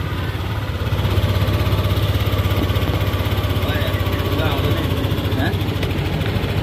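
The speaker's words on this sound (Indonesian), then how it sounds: "tinggal motor hidupin. Nih suaranya gimana?" A Yamaha Aerox 155 scooter idles after an oil change. The engine hum is loud, close and even, and a person talks over it.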